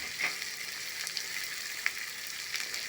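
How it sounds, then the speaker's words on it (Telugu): Onion, green chilli, curry leaves, garlic and asafoetida fry in hot oil for aloo chokha, giving a steady close sizzle with a few brief crackles and pops. "ఉల్లిపాయ, పచ్చిమిర్చి, కరివేపాకు, వెల్లుల్లి వేసేసాను 3. ఇది బాగా వేగనిద్దాం."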